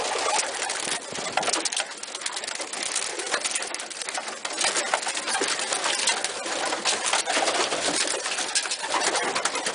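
Racing pigeons in an aviary cooing and fluttering close by, a dense, continuous mass of bird calls and movement with no one speaking.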